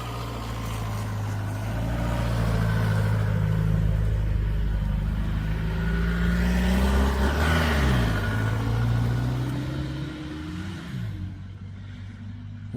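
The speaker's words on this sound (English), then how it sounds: "A person suddenly leaves in a vehicle" A vehicle engine revs and accelerates loudly nearby, rising in pitch and then fading as it pulls away in a wooded camping area, with no talk over it.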